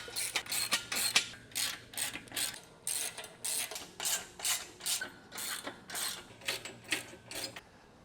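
Repeated ratcheting clicks from a wrench tightening nuts and bolts on a BF-60 Competition weight bench, in steady bursts of quick ratchet strokes, close and fairly quiet, with no talking.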